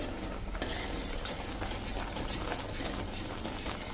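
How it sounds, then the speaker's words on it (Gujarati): Half a litre of milk is stirred steadily in a pan while green chili halwa cooks, producing a continuous scraping and swishing with a constant bubbling simmer underneath, close and even, with no voices. "આ રીતે દૂધ આપણે 1/2 લીટર નાખ્યું છે અને હલાવતા રહ્યા છીએ"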